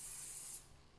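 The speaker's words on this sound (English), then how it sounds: "Spraying it with that Pam spray" Pam cooking spray hisses onto a pan in one steady close burst lasting about half a second, then cuts off, leaving a quiet room.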